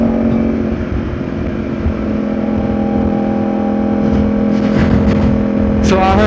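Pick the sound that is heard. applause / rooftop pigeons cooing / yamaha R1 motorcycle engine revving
yamaha R1 motorcycle engine revving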